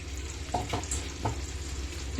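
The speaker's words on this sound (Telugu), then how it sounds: "సో చింతపండు పులుసు వేసుకుంటున్నాం." Tamarind juice goes into a pan of sizzling fish curry, a steady close fry and hiss with a few soft stirring scrapes and splashes, no voices.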